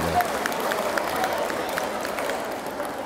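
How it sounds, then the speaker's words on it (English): A room of middle school students claps together in a school assembly setting, a dense, moderately loud burst of scattered hand claps with some background voices. "Go ahead and clap for great at that."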